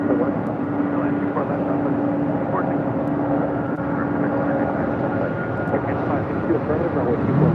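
At LAX a jet airliner roars in the distance on its landing approach to runway 24 left, a broad, steady rumble under radio chatter and voices.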